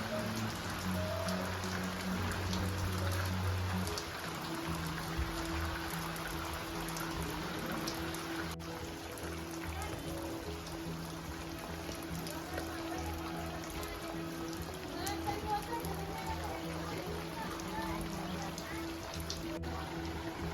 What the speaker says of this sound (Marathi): तर पाऊस आणखीनच जोरात येत आहे